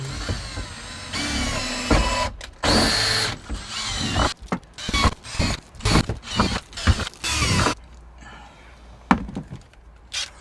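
A power drill with a worn chuck whirs in repeated short bursts up close, stopping and starting with mechanical rattling between runs, before the last few seconds fall quieter.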